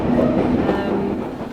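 A London Underground tube train near Finchley Road rumbles loudly from inside a carriage, a close, steady rattling roar with a humming drone that eases slightly toward the end.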